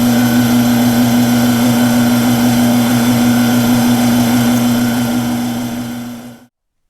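A lathe machining tapers onto steering joint pieces gives a loud, steady mechanical whine with a strong low hum. It runs continuously, then fades out and stops at the end.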